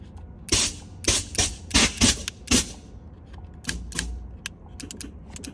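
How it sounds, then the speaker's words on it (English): Sharp mechanical clicks from the air suspension valves of a 2014 Chevy Silverado come in quick bursts, a cluster of loud snaps followed by scattered fainter ticks, close by. "Now you can hear the valves."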